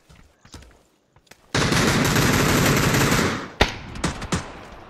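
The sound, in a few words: gunfire in a shooting video game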